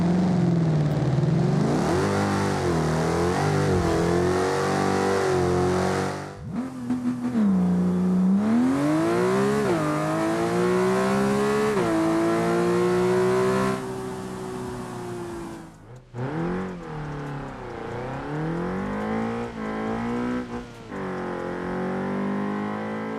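In the BeamNG driving game, a car engine with the Hellraiser sound mod revs hard in rising sweeps, broken by sharp gear-change drops and brief lifts, then climbs again. The engine stays loud and close throughout.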